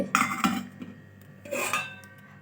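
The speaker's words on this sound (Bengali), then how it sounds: "দুপুরবেলা খাওয়া দাওয়ার পরে বাসন কোসনগুলো মেজে নিলাম" Dishes and pots scrubbed after lunch, a few close, uneven bursts of rubbing and clattering utensils separated by short pauses.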